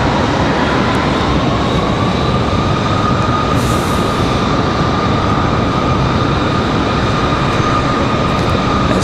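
Jet airliner engines at Raleigh-Durham airport, including a PSA regional jet taxiing to its gate, give a steady, loud broadband roar with a faint whine that holds throughout, no voices.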